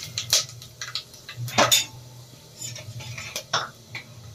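Cumin, dried red chillies, bay leaf and whole spices dropped into hot oil in a home kitchen pan for leftover-rice pulao, with a quiet sizzle under sharp clinks of a metal spoon against the pan.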